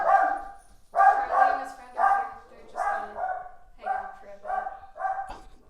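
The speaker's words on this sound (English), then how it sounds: "sorry, that's my dog. That's my dog there." A dog barks repeatedly, about eight sharp barks in uneven bursts, close and loud, with no other sounds between them.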